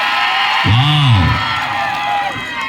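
A large crowd roars and cheers continuously at a kabaddi quarter-final between the Athani and Baramati teams, with a loud rising-and-falling whoop or horn-like call cutting through the din near the start.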